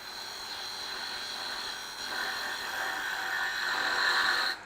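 A gouge working cellulose acetate spinning fast on a lathe, a steady close rasping whine with a hissing cut that grows slightly louder toward the end.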